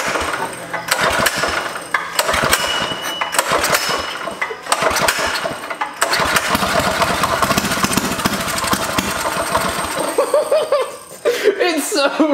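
A turbocharged go-kart engine starting and revving in bursts close by, with throttle surges and pauses, while people talk and laugh over it.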